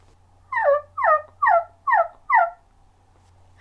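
A person imitates a wild turkey with five evenly spaced, clucking calls, loud and close in a quiet room, followed by a brief pause.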